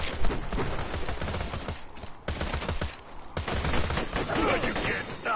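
Rapid gunfire from assorted weapons in the Borderlands shooter, bursts crackling steadily across the stretch with brief gaps, loud and close, while a voice talks over the shooting.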